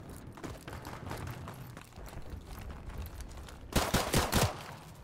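Gunfire in Call of Duty 4: Modern Warfare Remastered Gun Game multiplayer: muffled, distant-sounding shots patter throughout, then a louder close burst of three or four sharp rounds near the end.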